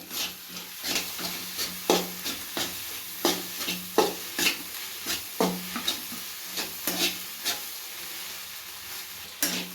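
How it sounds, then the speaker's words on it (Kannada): A spoon stirs egg with fenugreek greens in a pan, scraping in a steady rhythm of distinct strokes over a soft, constant sizzle, close and fairly quiet with no talking. "ಸೊಪ್ಪಿನ ಜೊತೆ ಚೆನ್ನಾಗಿ ಮಿಕ್ಸ್ ಮಾಡ್ಕೊತಾ ಇದ್ದೀನಿ."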